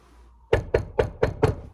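Five sharp knocks on wood in an even, quick rhythm, close and loud after a brief near-silent moment, with no speech over them.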